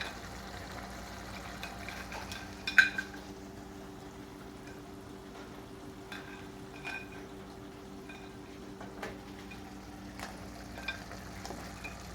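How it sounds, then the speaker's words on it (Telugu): Crab pieces are tipped into a pan of cooked masala with garam masala powder and stirred in for an Andhra-style crab curry. A faint, steady low sizzle runs throughout, broken by a few soft clatters and scraping stirs, with no voices. "పీతలు వేసుకొని ఒకసారి బాగా మిక్స్ చేయాలండి."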